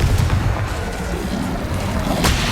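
Rapid spell explosions from combat in the Hogwarts Legacy video game, a dense loud barrage of booming blasts and cracking bursts layered over continuous low rumble.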